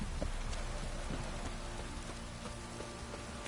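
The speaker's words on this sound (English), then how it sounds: "Some rain and my arse will rot off." Steady rain falls in The Witcher video game, a dense, even patter of drops on surfaces that holds at a moderate level throughout, with no voices.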